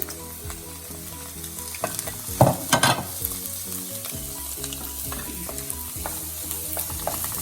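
Beans, carrot and cabbage stir-frying in a pan for chicken fried rice, a steady sizzle broken by scraping stirs and a few louder clattering spatula strokes near the middle, close and with no talk.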